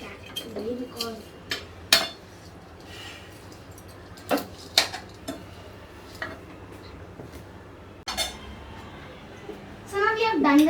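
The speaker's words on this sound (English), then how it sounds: "I have put these noodles into this now and now I'm going to mix it" Noodles for Chinese bhel are tossed in a bowl with scattered clinks and scrapes of utensils against the dish, while someone talks nearby throughout.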